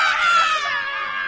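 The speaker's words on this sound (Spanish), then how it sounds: "por ahí oigo chillidos" High, shrill screams from several people at a Halloween event, sustained and overlapping throughout, fairly loud and slightly distant, with no talk.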